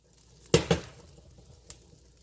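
Two quick hard knocks of a pestle pounding food into a mortar, followed by a single softer thud after a short pause.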